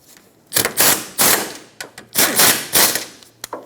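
A ratchet or impact tool snugs up the 12mm strut mounting nuts on a 2008-2012 Honda Accord, giving several loud, close, rapid rattling bursts in quick succession.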